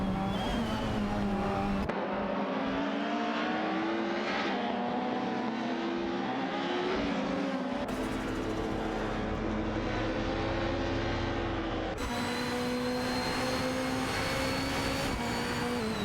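Race cars, a Nissan Primera P11 and a Peugeot 406, in a video game race, engines droning and revving in sustained pitched tones that shift abruptly as views change, loud and continuous with no talk.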